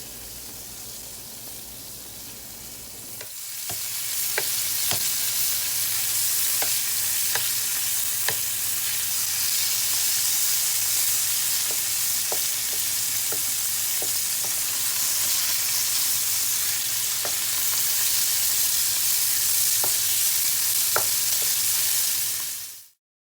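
Beef for Japanese curry fries in a pan with a loud, continuous sizzle that starts a few seconds in and runs steadily, with occasional light clicks of stirring and no voices.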